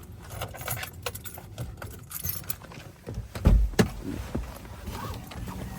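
A bunch of keys jangles close by in a steady metallic rattle, with a couple of louder clinks and knocks in the middle; no one speaks.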